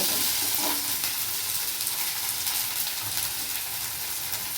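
Crushed garlic cloves and ginger frying in hot oil for an egg curry, a loud, dense, continuous sizzle with faint scraping of a spoon against the pan.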